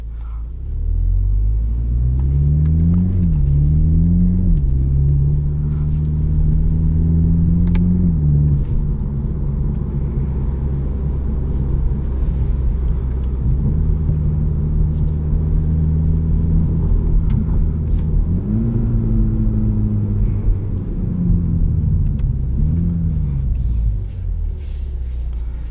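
A 2021 Toyota Supra 2.0 drives with a steady, loud engine rumble from inside the cabin, rising in pitch through several gear pulls and dropping at each shift.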